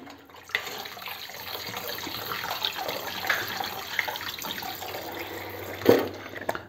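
Rose water is poured generously into a dessert syrup for a Turkish bici bici muhallebi, a soft, steady trickle of liquid with a brief splash near the end, heard alone.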